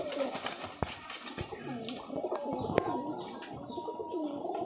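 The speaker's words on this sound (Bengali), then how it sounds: "এই এক জোড়া কবুতর খুব ভালো দমের কবুতর" A pair of high-flyer Giribaz pigeons coo softly nearby, their low, murmuring calls repeating steadily over a light background with a few sharp knocks, and no voices.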